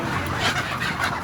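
Laying hens on a poultry layer farm cluck in a continuous, busy chorus, a dense overlapping flock sound without any talking.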